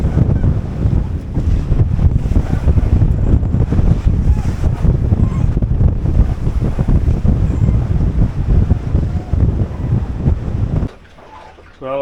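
Strong wind of about 22 knots, gusting higher, roars steadily into the microphone while waves break and slosh against a sailboat beating to windward under reduced sail. The sound is loud and continuous, then drops off abruptly near the end.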